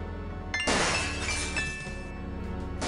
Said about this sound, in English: Gabriel hears the faint sound of breaking glass.